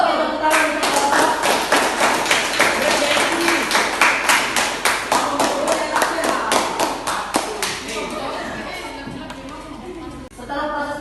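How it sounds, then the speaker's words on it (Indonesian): A biology class claps for a student group, a run of quick, sharp handclaps from many children that fades gradually toward the end, with a voice heard briefly under the clapping. "Oke, tepuk tangan untuk kelompok."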